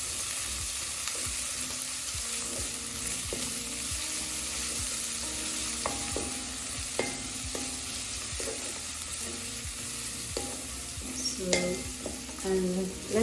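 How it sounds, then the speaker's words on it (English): Garlic and ginger sizzling in a pan with golden-browned onions, a constant soft fry with intermittent scraping and stirring of a utensil against the pan, no one talking. "our onions are already over golden brown, so I just add that garlic and ginger"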